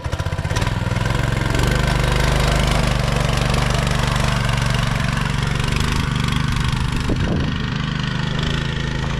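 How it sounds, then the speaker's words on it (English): A small go-kart engine runs loud and close with a steady, buzzing drone that holds roughly even throughout, rising slightly as it revs near the end. "So I'm gonna ride the go-kart and I'll show you guys a little when I'm driving."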